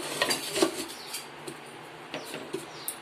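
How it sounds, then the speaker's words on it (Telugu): A lid is set onto a cooking pot in a home kitchen, giving a few light metallic clinks and scrapes in close succession, heard close and alone. "దీనికి మూత పెట్టేద్దాం"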